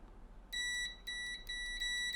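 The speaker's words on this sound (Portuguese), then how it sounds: "Então o botão está bipando." Multimeter continuity beeps while testing a phone button, four short high electronic tones in an uneven sequence against a quiet background.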